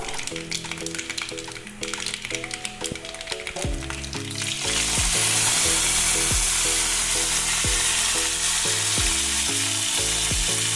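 Dried red chillies drop into hot oil in a pan and burst into a loud, steady sizzle that carries on for several seconds, close up, while background music plays underneath.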